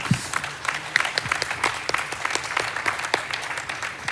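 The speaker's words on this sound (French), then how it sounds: "On peut applaudir Alexandra." An audience at a solar energy conference gives a round of applause, with brisk, distinct claps close by over a continuous crowd patter.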